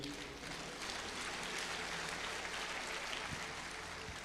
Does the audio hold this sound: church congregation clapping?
yes